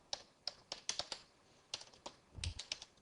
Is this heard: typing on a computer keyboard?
yes